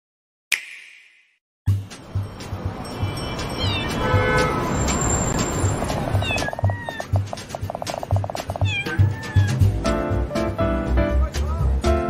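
A cat meows several times in a video game trailer, short rising cries standing out over continuous loud music.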